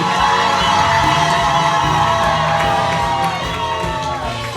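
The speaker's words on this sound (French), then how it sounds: "Est-ce qu'on peut acclamer le Saint-Esprit?" A church congregation at a French-language Pentecostal service cheers and acclaims loudly, a dense sustained roar of voices with whoops and shouts filling the whole moment.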